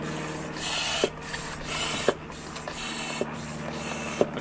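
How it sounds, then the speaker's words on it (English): A hand pump inflating a bicycle inner tube on an eFoldi folding bike: steady airy pumping hiss with a soft thump at the end of each stroke, about one per second, close and without talk. "I'm going to pump this up just to open up the airbag, inner tube"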